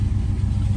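Chevrolet El Camino fitted with a Corvette engine idling close by, a steady low rumble with a slightly uneven throb running without a break, no voices over it.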